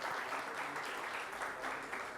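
An audience at a professional accountants' conference claps in welcome, a brief, even burst of many hands applauding together with no pauses.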